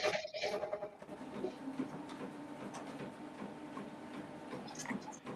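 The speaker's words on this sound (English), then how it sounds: "But it's still embroidering without the foot." An embroidery machine stitches yarn onto a sweatshirt, producing a quiet, rapid mechanical ticking and whirring that runs steadily throughout.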